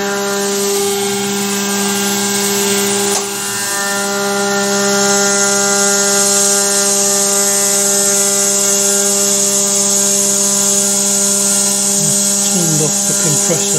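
An air compressor runs during CNC milling on a Carvera Air desktop machine, producing a loud, continuous hum with steady tonal drone that carries on unbroken for the whole stretch.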